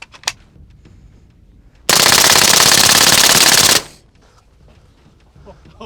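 A sustained two-second burst of fully automatic 9mm submachine gun fire aimed at an armored bank truck, loud and close, rapid shots blurring into a continuous roar before cutting off abruptly.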